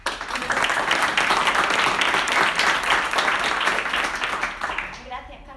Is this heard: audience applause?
yes